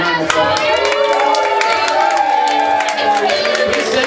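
An audience at a live carnival-style music show claps and cheers for a volunteer, with dense clapping, some whoops and crowd noise, and a ringing tone sustained in the background.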